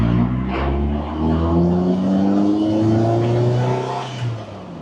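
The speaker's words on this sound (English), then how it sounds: "you just need to listen to the engine of this car" A Lotus Elise sports car engine revs while driving laps, its pitch climbing through gears with a brief dip between, loud and close inside the cabin, with no talking.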